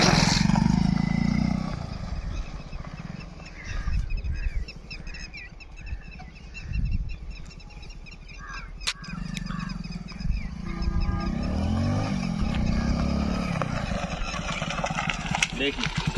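A motorcycle fitted with an i3s idle stop-start system is ridden off and brought back, its engine loud and near, revving and rumbling in surges before settling, with someone talking over parts of it.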